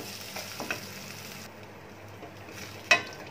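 Base masala frying and being stirred in a pan, a soft ongoing sizzle with a few light scrapes and a sharp clink near the end.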